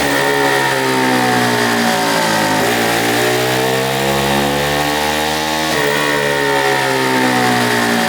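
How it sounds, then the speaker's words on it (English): A 125cc turbocharged go-kart engine revs hard on a dyno, loud and continuous, its pitch sweeping up and down through repeated throttle runs with a rasping, buzzy tone and no talking. "we threw the kart onto the dyno and ran it up just to make sure everything was working perfectly"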